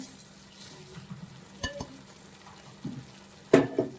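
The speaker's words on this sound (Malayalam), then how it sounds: "ഇനി ഇതിലേക്ക് നമ്മൾ ഈ വറുത്ത് വെച്ചിരിക്കുന്ന ഓട്സ് ചേർക്കുവാണ്" Roasted oats go into boiling water in a pot, with a faint background hiss, scattered spoon-on-pot clinks and scrapes, and a louder clatter near the end as the mixture is stirred.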